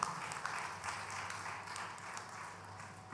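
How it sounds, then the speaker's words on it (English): Attendees at a cannabis festival conference in St. Vincent and the Grenadines give a short round of applause, a moderately loud, even clatter of hands over a low background hum. "let us give a round of applause again."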